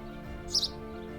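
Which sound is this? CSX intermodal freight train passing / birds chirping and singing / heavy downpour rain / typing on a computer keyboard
birds chirping and singing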